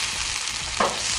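Onion and carrot fry in a pan, a close, loud continuous sizzle with a brief sharper crackle of stirring near the end and no talk.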